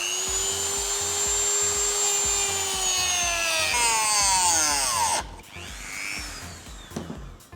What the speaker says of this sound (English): So we're going ahead and cut this up.